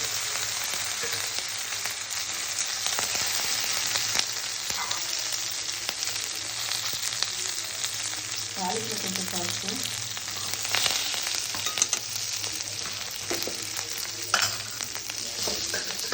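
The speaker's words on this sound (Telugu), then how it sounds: "కరివేపాకు అండి అందులో వేసుకున్నాము మళ్ళీ తాలింపు" Steady oil sizzle and crackle as curry leaves fry in tempering oil in a pan, continuous throughout with occasional stirring scrapes, no talking.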